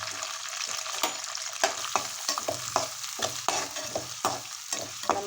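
Mustard seeds, cumin, urad dal and curry leaves crackle and sizzle in hot oil for a breakfast semiya tempering, with sharp popping bursts over a steady frying hiss, fairly close and without talk.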